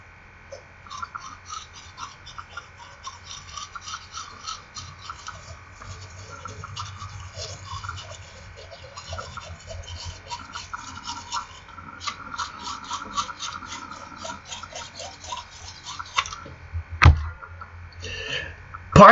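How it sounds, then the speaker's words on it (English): Toothbrush scrubbing the outer surfaces of the upper teeth and gums, right, front and left, a steady close rhythmic brushing and rubbing that runs throughout beneath a low hum, ending with a couple of louder knocks. "Let us begin part one, brushing the upper teeth and gums outside, right, front,"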